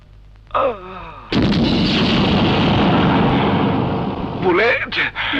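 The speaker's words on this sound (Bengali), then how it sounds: "তুই পিঠে গুলি করলি কেন?" A loud gunshot sound effect in a comedy dance skit bursts in suddenly and roars for about three seconds. Brief vocal exclamations come just before and right after the blast.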